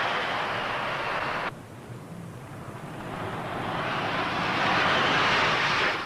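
A carrier aircraft lands on the deck of HMS Ark Royal in 1974, a loud, steady jet roar that drops sharply for a moment, then swells back to full strength, with no voices.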